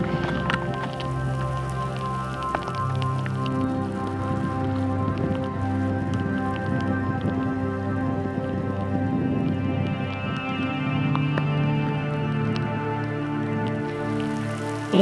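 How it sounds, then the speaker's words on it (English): Steady rain patters on a surface on a hiking trail in Bryce Canyon, a continuous even hiss of drops mixed with a humming tonal drone throughout, with no speech. "And of course the rain is starting again."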